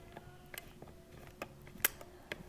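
A dulcimer's tuning gear clicks and ticks faintly as it turns the spindle to tighten a string, with scattered small mechanical taps and a sharper click near the middle.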